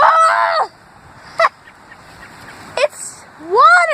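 Honking, goose-like calls from a fowl near flood waters, loud and close, in two bursts at the start and end with a couple of short sharp calls between, over a faint outdoor background.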